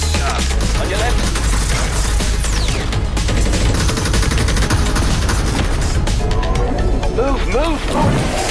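Gunfire in a VR video game trailer crackles in dense, rapid bursts over a loud, busy mix of effects and music, with voices shouting beneath the barrage.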